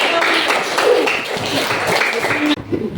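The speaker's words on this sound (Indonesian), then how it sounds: "Tepuk tangan" Schoolchildren in a classroom clap their hands together, a dense patter of many palms that goes on for a few seconds, then cuts off sharply as the teacher carries on speaking.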